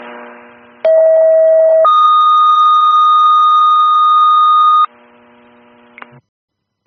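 Fire department dispatch alert tones for Secaucus, New Jersey: a short lower steady tone, then a longer higher sustained tone lasting about three seconds, loud and clean over faint radio hiss, followed by brief radio static.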